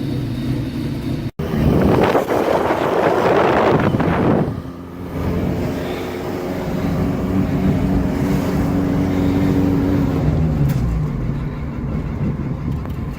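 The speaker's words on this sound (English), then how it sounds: "It's idling like shit right now." A Honda engine idles roughly in an outdoor setting, a loud continuous low rumble with a rough, uneven texture, sharply disturbed early on by one abrupt break and a burst of wind-like noise.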